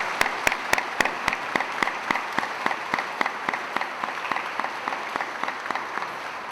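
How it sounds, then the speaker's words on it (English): A school convocation audience claps for about six seconds, a dense wash of applause with a few individual claps standing out sharply, moderately loud and without talk. "So one more round of applause for Ms. Alexi Cohen."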